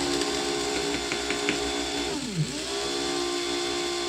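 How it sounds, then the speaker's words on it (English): Beans being ground in a coffee grinder for a snickerdoodle Christmas latte: a steady, loud mechanical whir with a brief pitch dip partway, running continuously with no talk. "Grind my beans."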